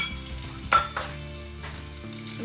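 Cumin, ginger, garlic and green chili sautéing in a pan over a slow flame for Maharashtrian kadhi, a soft sizzle with a clink of a utensil and light scraping, no voices.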